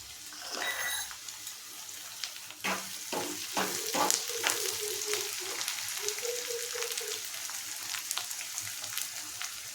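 Chopped tomato and capsicum hit hot oil in a pan for brinjal curry, a sharp burst of sizzling and stirring scrapes that settles into a steady, close fry.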